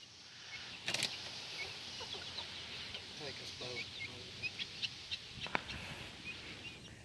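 Hens in a backyard chicken coop cluck softly in a steady, scattered pattern at moderate distance, with a couple of sharper knocks and faint talk in the background.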